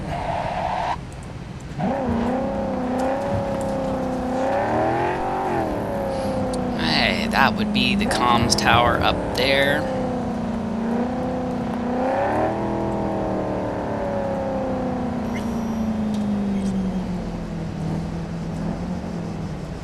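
Car driven in a video game, with a steady engine drone that rises and falls as it revs and shifts, running throughout beneath someone talking.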